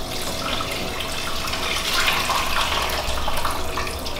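Dark, thick homemade chicken stock pours through a fine mesh sieve into a container, making a steady, close, fairly loud rush of trickling and splashing liquid for the whole stretch, with no talking.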